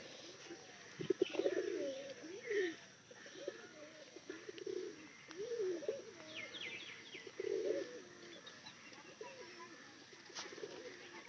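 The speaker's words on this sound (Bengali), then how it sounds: "এই যে আমার সব পায়রাগুলো এখানে আসতেছে।" Pigeons coo repeatedly as they gather to eat rice grains, with soft throaty calls in irregular clusters and a few higher chirps over a quiet outdoor background.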